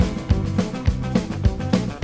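Backing track with drums and bass: steady kick and snare hits pulsing about every third of a second under a low bass line and guitar, loud and close, no talking.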